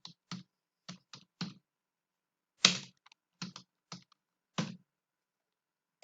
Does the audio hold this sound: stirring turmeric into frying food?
no